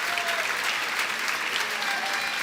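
A church congregation applauds, dense steady clapping from a crowd filling the room throughout.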